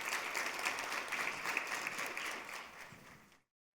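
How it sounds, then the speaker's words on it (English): A short burst of warm audience applause for a keynote speaker at a cancer-support conference, moderately distant and even, ending abruptly after about three and a half seconds. "So please give a warm round of applause for Dr. Loiselle."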